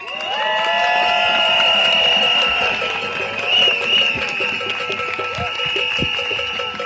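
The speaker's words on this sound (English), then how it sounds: "give another round of applause for our Reverend Graham Hadley" A protest rally crowd in Washington cheers and applauds a reverend as he leaves the stage, with whoops and shouting in a dense, steady wash of noise that carries right through.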